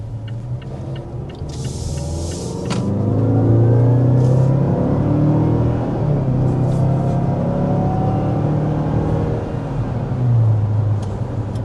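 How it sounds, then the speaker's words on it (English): A 2025 Mazda CX-5 Signature turbocharged engine rumbles and climbs in pitch under hard acceleration toward 60 mph, a steady close-up roar with a faint whine riding on top. "we want to start with a hard acceleration"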